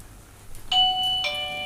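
A doorbell rings twice as a parcel arrives: a clear two-note electronic chime, then a second chime, sounding against a quiet room with no talking.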